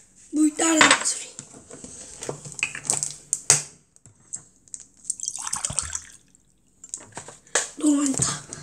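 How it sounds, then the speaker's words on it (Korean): Water is poured for a child at a meal, a soft liquid trickle among clinking cutlery and dishes, with a young voice speaking at the start and end. "물 따르는 소리."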